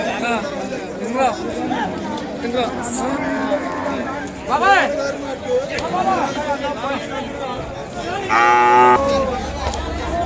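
A calf at an outdoor Sunday cattle market for Ongole bulls gives several moos, close and fairly loud, amid a steady crowd hubbub and nearby chatter of people talking.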